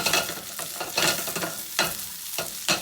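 Chorizo and potatoes fry in a pan with a steady sizzle, broken by repeated louder scraping bursts of stirring roughly every second, close and clear with no voices.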